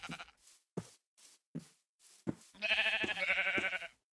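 Sheep in the video game Minecraft bleat in a series of short, close calls, followed by a longer sustained bleat, with no talking over them.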